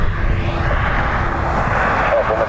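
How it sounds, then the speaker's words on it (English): An airliner at Dublin Airport, a loud continuous jet engine roar with a broad rumble, close and steady throughout. "there's Aer Lingus coming in on the far side"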